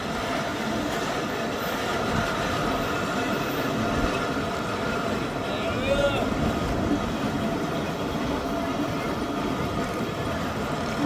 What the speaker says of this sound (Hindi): घोड़के रेलवे स्टेशन पहुंची है हमारी ट्रेन